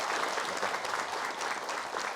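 Audience applause in a television studio, a dense, continuous burst of clapping at moderate level with no talking over it.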